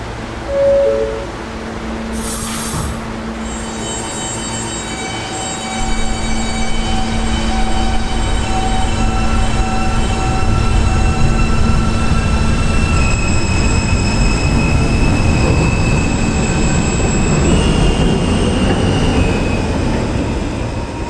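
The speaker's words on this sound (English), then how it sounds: "This is a Catlin-bound B train." A New York subway B train at Herald Square station, wheels squealing on rails with long sustained tonal screeches and steady rolling rumble throughout, loud and close, no voices.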